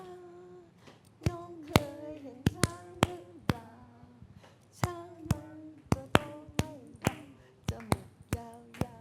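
Hands clap a melody's rhythm in a music class, sharp irregular claps spaced between sung or hummed tones, close and distinct over a quiet room.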